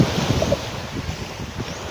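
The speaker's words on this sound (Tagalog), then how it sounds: "Yan po ang dagat, malalim ang dagat." Steady seaside wash of waves on a deep-water shore, with continuous broadband surf and wind buffeting the microphone, no clear individual wave breaks.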